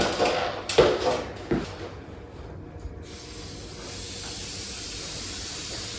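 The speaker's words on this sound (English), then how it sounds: "Spray on that spring." A few short bursts of aerosol lubricant spray hiss up close onto a garage door spring, followed by a long, quieter steady hiss that continues to the end.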